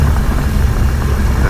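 Small single-engine light aircraft held at 2,000 RPM for a run-up before a solo flight, the engine running slightly rough: a loud, close, steady propeller drone with no talking over it.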